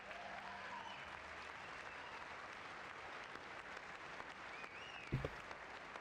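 A few people clap in the House chamber during President Trump's 2026 State of the Union address: a thin, steady patter of scattered hands under room noise, with one low thump near the end.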